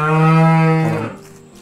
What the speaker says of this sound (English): Oh, there's some moo-moos over here.